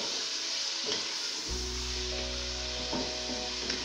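Chicken tenders for a Chinese-style recipe fry in a pan, with a steady hiss throughout that swells into a louder, fuller sizzle about halfway through and holds close and continuous.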